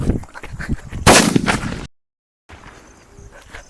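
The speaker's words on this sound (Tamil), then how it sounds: "ஃபர்ஸ்ட் நாம இந்த சின்ன அணுகுண்டுல இருந்து வெடிக்க ஆரம்பிச்சிடலாம்" A small atom bomb firecracker bursts outdoors during Diwali with a sharp, loud blast and a brief crackling tail, followed by a moment of silence and then faint outdoor ambience.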